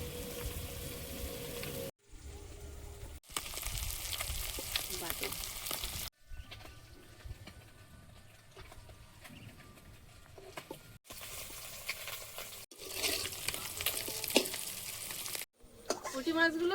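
Oil sizzles and crackles steadily in a pan on a home stove, close and continuous, with a few brief breaks in the frying sound and no voices.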